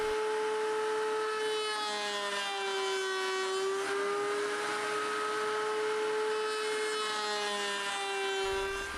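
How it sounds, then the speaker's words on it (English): A flush-cutting router bit trimming cured epoxy down flush with wood, a continuous high whining motor tone with a rough cutting rasp layered over it, steady and close for the whole stretch before it cuts off abruptly near the end. "I can use a flush cutting router bit to easily remove the epoxy down square to the wood"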